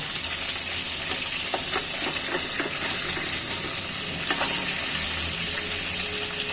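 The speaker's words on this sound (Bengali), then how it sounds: "নর্মালভাবে মাছটা ভাজা করে নেই মিডিয়াম পর্যায়ে" Rohu fish frying in oil at medium heat, a steady loud sizzle throughout with scattered crackles and pops, no talking.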